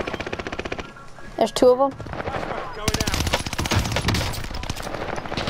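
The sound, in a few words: gunfire in a video game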